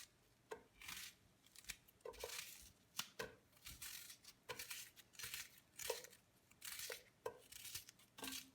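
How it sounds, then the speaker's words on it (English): A knife finely chops an onion on a board in a home kitchen, a quiet, steady series of crisp cuts and scrapes repeating at an irregular rhythm. "So now I'll be cutting my onion. Make sure you cut the onion quite fine."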